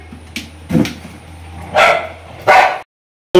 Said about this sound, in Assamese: কোনোবা বেলেগ কুকুৰ আহিছে